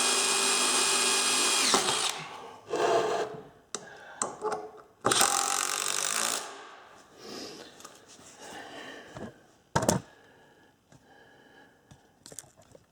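A cordless drill drives screws into wood while building a firewood stand: a couple of loud bursts of motor whine with ratcheting clutch clicks, separated by quieter handling noises and brief pauses.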